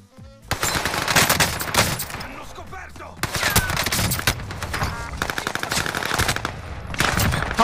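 An Owen submachine gun in a shooter game rattles off long, rapid automatic bursts, loud and close, with brief pauses between strings of fire.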